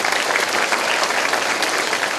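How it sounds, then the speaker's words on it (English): Dense, continuous polite applause from a school assembly of students saluting music teachers, with no cheering, steady and fairly loud for the whole stretch. "just polite applause"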